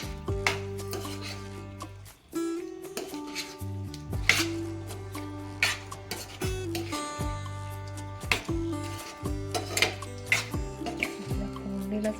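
Tamarind prawn masala stirred in a pan after water is added, giving close, repeated wet clinks and scraping of a spoon against metal, set under steady background music.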